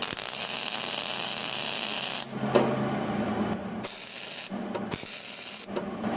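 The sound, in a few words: MIG welding a bead on automotive sheet metal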